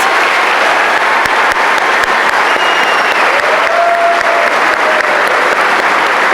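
Sustained, loud applause from a graduation ceremony audience honoring the Class of 2024 at a high school commencement, a dense, even wash of many hands clapping with no talking over it.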